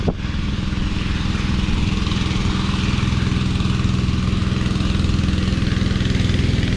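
A loud, steady engine drones close by, a rough low chugging hum that holds constant throughout, from the noisy inboard motor of a double-ender boat on the Canal do Varadouro, Brazil.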